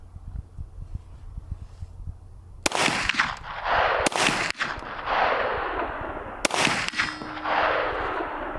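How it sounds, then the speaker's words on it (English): Three sharp P80 Glock pistol shots cracking out at a steel target placed 100 yards away, each a loud separate report with a ringing decay, spaced about a second or two apart outdoors. "Let's see how many shots it takes to hit it with this P80 Glock."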